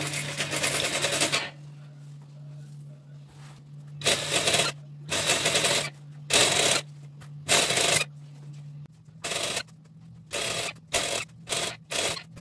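A sewing machine top stitching crinoline to tulle for a child's ball dress, loud motor bursts starting and stopping in a series of runs, the later ones shorter and quicker.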